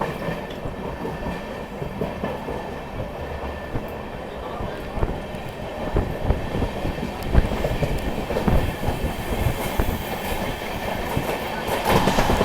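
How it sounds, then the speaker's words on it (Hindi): An Amrit Bharat Express passenger train pulls away from Anugrah Narayan Road station, its wheels clattering in a steady rolling rumble heard from inside the carriage, loud and continuous, with faint voices in the background. "अपनी ट्रेन अनुग्रह नारायण रोड से निकल चुकी है"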